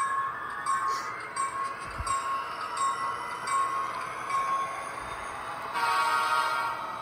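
Model train locomotive starting up on a home layout with its bell sounding, a steady mechanical hum with a brief low thump near two seconds and rising noise toward the end.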